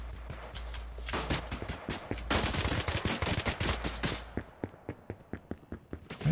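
Gunfire in the video game Exverse, an online first-person shooter: bursts of automatic weapon fire, dense at first, then spaced single sharp shots toward the end, fairly loud and with no talking.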